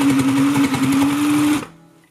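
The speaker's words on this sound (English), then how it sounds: "we are going to begin sewing here and working our way down" A Sew Cool no-thread kids' toy sewing machine runs close by, a steady whirring buzz with a rapid mechanical pulse that stops abruptly near the end, leaving a brief quiet tail.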